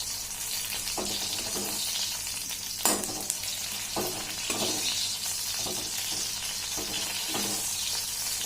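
Chillies fry in hot oil with a constant bright sizzle, close and steady, punctuated by periodic stirring clatters and a sharp clink about a third of the way through.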